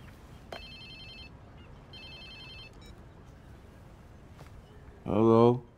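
A phone ringing in the video game Watch Dogs 2, two short electronic ring bursts over quiet background, followed by a brief voice at the end.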